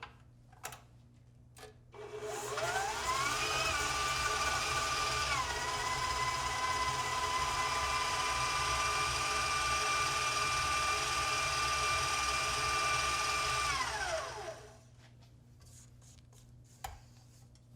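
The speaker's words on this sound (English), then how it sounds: "cream the ingredients together until they become light and fluffy. If necessary, pause the mixer" An electric mixer creams butter, sugar and salt in a bowl for spritz cookies, a steady close whirring hum that ramps up, holds for about twelve seconds with a brief dip in pitch, then winds down and stops.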